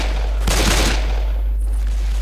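A brief burst of gunfire in the zombie shooter Left 4 Dead 2, a dense rattling blast lasting about half a second over a steady low hum, then fading into quiet background noise.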